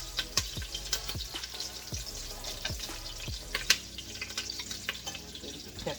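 Onions and celery sizzle steadily in a soup pot for homemade chowder, a continuous close frying hiss broken by a few sharp stirring clinks and scrapes, with no talking.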